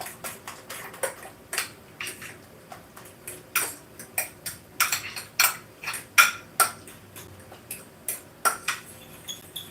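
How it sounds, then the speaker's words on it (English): Eggs are beaten with a utensil in a bowl before being mixed with tomatoes, making a quick, uneven series of sharp clinks and taps against the dish. The sound is close, fairly quiet and without voices. "we're gonna beat our eggs, mix it up with the tomatoes"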